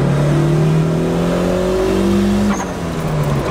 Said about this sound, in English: Here we go. Wide open throttle.